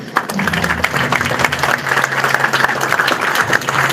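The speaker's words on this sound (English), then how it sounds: "I would like to give yourself a round of applause for that." An event audience applauds steadily in a dense, sustained wash of clapping that holds at even loudness for the whole stretch, with a faint voice underneath near the start.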